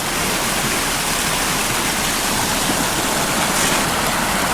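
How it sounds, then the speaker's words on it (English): A small woodland stream spills over a log in a little waterfall on Michigan's Keweenaw Peninsula, making a loud, steady, broadband rush that holds unbroken from start to finish with no voices. "A little stream coming out here. I even have a little waterfall over a log."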